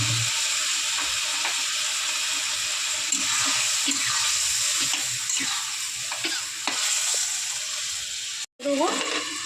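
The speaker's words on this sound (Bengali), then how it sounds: "মশলাটা কষাবার জন্য একটু দিয়ে দেবো জল" A spice mix fries in a pan for a ridge gourd and Japanese puti fish curry, with steady sizzling, repeated spatula scrapes and stirs, a brief dropout near the end, then a renewed hiss as water hits the pan.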